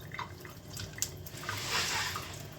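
Water is poured off pinto beans into a kitchen sink drain, giving a continuous soft splashing and trickling with small drips, moderately close and steady throughout.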